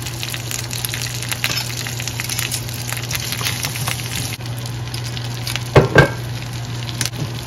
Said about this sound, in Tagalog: Tapos maglagay tayo ng butter. Yan. Ilagay na natin yung leftover na pork chop.